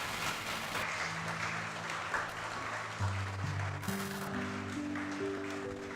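An audience applauds at a school investiture ceremony, a steady spread of clapping filling the hall throughout while a sustained musical tone plays underneath.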